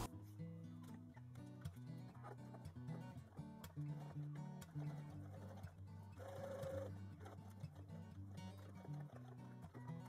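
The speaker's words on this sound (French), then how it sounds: "Et nous allons passer une couture tout le long." A sewing machine runs a long seam along a stretch jersey skirt, its steady whirring stitch close and continuous throughout.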